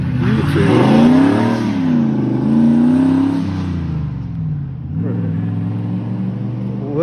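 A turbocharged Ford Mustang revs and accelerates close by, its engine rising and falling through loud sweeping pitch changes, then settling into a steady rumbling drone.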